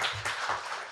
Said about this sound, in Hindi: पहले एक बार जोरदार तालियां हो जाए।